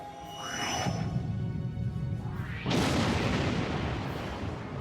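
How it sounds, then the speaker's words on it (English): A big explosion in the Star Trek Online space game, a loud booming blast with a rising whoosh and a second surge of rumbling roar, no talk over it. "That was an explosion and a half."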